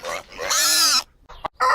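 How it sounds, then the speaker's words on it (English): A domestic pig grunts and oinks in a few loud, close squeals and snorts, heard alone without talk. "A pig's head is relatively long and pointed."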